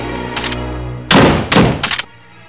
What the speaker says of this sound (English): Bolt your doors.